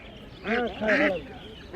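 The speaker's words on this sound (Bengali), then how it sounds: "নাটোরের অরিজিনাল দেশি হাঁস" Native Natore ducks at a village poultry market in Fatullah, Bangladesh, give several close, nasal quacks in quick succession.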